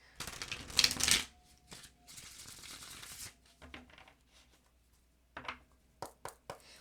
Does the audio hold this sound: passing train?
no